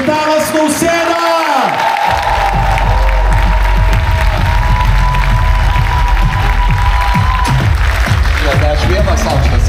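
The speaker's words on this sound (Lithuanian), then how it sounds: "Aš noriu, kad jūs visi plojimai sutiktumėt" Loud, sustained applause and cheering from a large crowd in Palanga as President Gitanas Nausėda is welcomed, with whoops rising over continuous clapping throughout.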